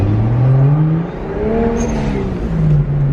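A car engine, on a BMW fitted with an HKS blow-off valve and an SR20, revs inside a tunnel. It holds a loud, steady drone with rising and falling pitch sweeps, booming and echoing close by.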